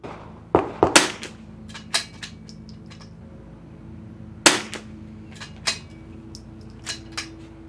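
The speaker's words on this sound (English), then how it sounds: "he shot the orange dot off" Rifle shots at an outdoor shooting range crack out as a handful of sharp, separate reports spaced a second or more apart over a low background hum, with some shots sounding nearer and others fainter.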